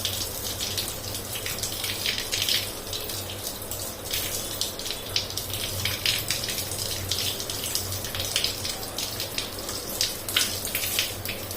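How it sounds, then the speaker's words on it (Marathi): Tap water gushes steadily over soaked soybeans being rinsed in a sieve under a faucet, a continuous close splashing stream with no talk. "नळाखाली छान असे स्वच्छ धुवून घ्यायचे"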